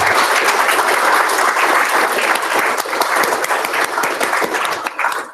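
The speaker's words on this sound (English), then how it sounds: "Big round of applause to them," Audience applause at a React London meetup hosted at The Guardian, a dense, steady wash of many hands clapping that carries loud throughout and eases slightly near the end.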